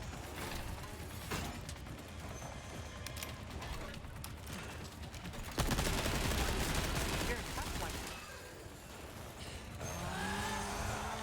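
Gunshots and bursts of gunfire from the Resident Evil 4 Remake DLC, dense and continuous under a busy game mix, with a sharp louder burst midway and fire carrying on to the end.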